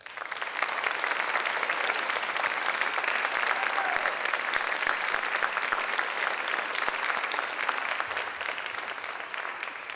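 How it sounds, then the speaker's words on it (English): An audience at a school foundation Hall of Fame ceremony gives inductees a long, sustained round of applause, loud and dense clapping filling the room without letup and no voices over it. "please join me in giving all these outstanding individuals one last round of applause"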